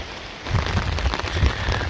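Rain falls on a tent on a cold mountain night at Doi Ta Pong, a close, steady patter of drops with slightly heavier taps, with no talking.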